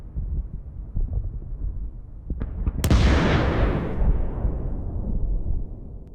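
Bomb dropped from a drone onto a soldier on a battlefield detonates in a single loud, sharp blast partway through, then a long roaring rumble and debris wash slowly fades over low wind noise, with no voices.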